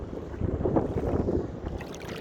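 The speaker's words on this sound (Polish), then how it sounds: "tam kolejna łódka płynie, motorówka" A motorboat passes on the turquoise sea off Saona Island in the Dominican Republic, a steady engine drone blended with wind buffeting the microphone.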